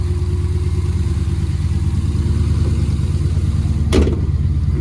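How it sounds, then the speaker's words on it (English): A small Hemi V8 in a truck idles with a deep, even burble through an X-pipe exhaust, loud and close, with a brief sharp clank near the end. "that's the baby Hemi right there for you"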